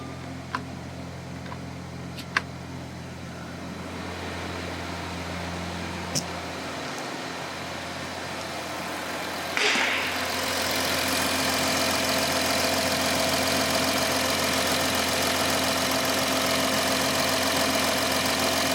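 A steady Audi Q7 engine idle runs throughout; partway through, the radiator fan kicks in with a broad whooshing noise and stays, making the sound noticeably louder and fuller.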